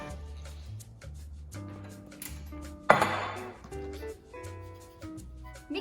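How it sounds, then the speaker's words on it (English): Chocolate crackles ingredients are stirred in a bowl with a spoon, giving soft scraping and light clinks. One louder clatter stands out in the middle of the mixing. "Mixing time."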